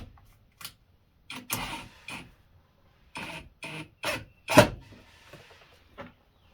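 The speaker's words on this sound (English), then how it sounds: "and then I'm gonna run the pocket hole screw in." A pocket hole screw is driven into two clamped wooden boards on a flat surface, heard as several short bursts of drill whirring and rasping, with brief pauses between them, close and fairly loud.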